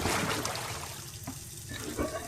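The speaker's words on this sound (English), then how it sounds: "Faucet off." A faucet in a video game runs in a steady, hissing stream of water that fades slightly partway through before continuing.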